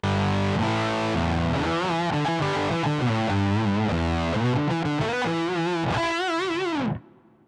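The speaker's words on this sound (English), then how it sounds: "Let's hear compression and distortion." Electric guitar played through a Zoom GFX 707 digital multi-effects unit with compression and distortion engaged, loud crunchy chords and bends sounding steadily for about seven seconds before cutting off abruptly into silence.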